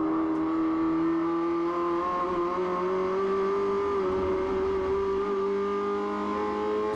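A SsangYong race car engine at full throttle during a race at Pukekohe holds a strong, steady drone from inside the cabin, its pitch climbing slowly with small steps where gears are flat-shifted, loud and continuous without voices.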